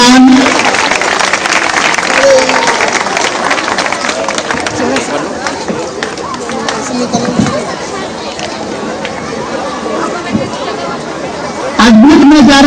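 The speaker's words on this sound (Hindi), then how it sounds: "अद्भुत नजारा जोरदार तालियां" A crowd at a Gurukul family honouring ceremony with teachers on stage applauds loudly and steadily, with background chatter and a voice mixed into the dense clapping.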